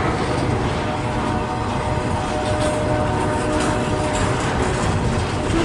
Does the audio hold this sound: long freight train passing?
yes